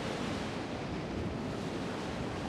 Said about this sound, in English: you've got the waves breaking on the reef just in the distance